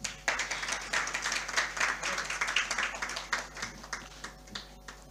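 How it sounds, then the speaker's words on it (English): An audience at a panel discussion gives a sustained round of applause after a memento presentation, with dense, moderately distant clapping that carries on for several seconds before gradually thinning out. "Can we have a big round of applause?"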